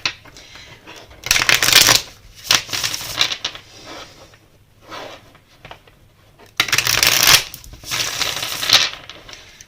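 Tarot cards shuffled in two loud riffling bursts, each followed by quieter card handling and a single card drawn, close up with no voices.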